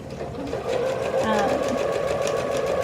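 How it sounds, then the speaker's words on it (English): A sewing machine stitches a shirt collar with a short construction stitch, a steady rapid mechanical whirring that speeds up after a brief start and runs continuously close by while someone talks over it. "you're going to want to use a short stitch just like you would construction for this, and sew closely to the line"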